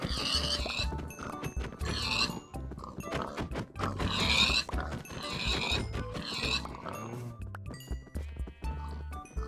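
Many pigs oinking and squealing in a dense, continuous chorus while a herd is being culled in Minecraft, loud and busy throughout with no talk.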